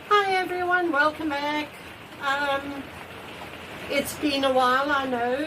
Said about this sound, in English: It is raining. You can probably hear the rain.